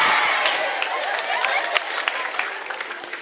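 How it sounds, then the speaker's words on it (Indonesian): Crowd applause and clapping, steady and dense at first then thinning into scattered claps toward the end. "Ini tepuk tangan maksudnya apa?"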